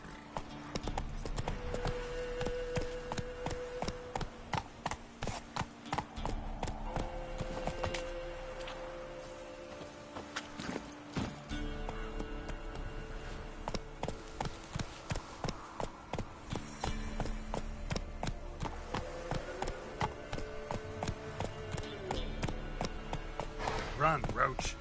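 Roach the horse gallops in The Witcher 3, hooves clip-clopping in a fast, steady rhythm that runs throughout. A voice speaks over the hoofbeats and game sounds.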